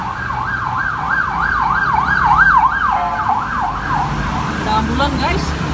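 An ambulance siren wails past a koi fish dealer's premises in Malang, its rising and falling tone loud and steady before shifting in pitch and fading as it goes by.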